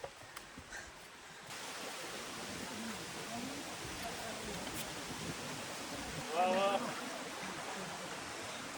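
Water rushes steadily at Khoiyachora waterfall in Sitakunda, a dense, unbroken roar that fills the scene close by after a brief quieter opening, with a short burst of voice rising over it near the end.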